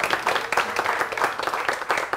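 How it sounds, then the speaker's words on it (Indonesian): Audience applause at an open mic comedy show, brisk and fairly close, with many hands clapping in a dense, uneven patter that continues for a couple of seconds. "Jadi tepuk tangan untuk teman-teman semua yang ada di sini"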